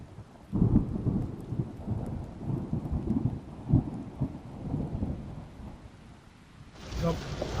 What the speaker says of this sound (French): il pleut à Capati.